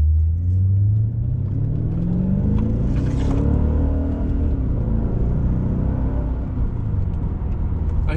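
A Mercedes E430 car drives into a workshop hall, its engine a loud, close, continuous low rumble with the engine note rising and falling as it rolls in.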